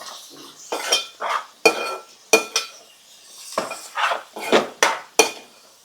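Mutton curry being stirred in a metal pot, a spoon scraping and clinking against the sides in about a dozen distinct, close strokes with brief pauses between them.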